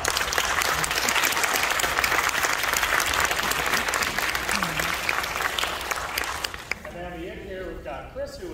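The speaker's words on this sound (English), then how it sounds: "let's give him a round of applause" An audience at a horror film festival screening claps loudly and steadily for several seconds before the applause fades out and a voice begins talking.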